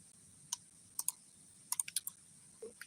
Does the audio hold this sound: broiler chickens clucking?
no